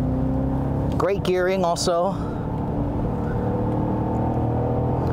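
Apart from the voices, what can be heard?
Cadillac CT5-V Blackwing V8 engine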